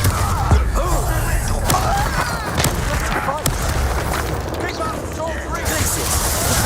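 Incendio, the fire spell in the video game Hogwarts Legacy, is cast with fiery bursts and rumbling booms over a continuous loud mix of game effects.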